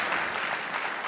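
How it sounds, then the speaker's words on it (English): Brief burst of audience applause at a Mike Pompeo talk, a dense wash of clapping heard steadily throughout. "Round of applause"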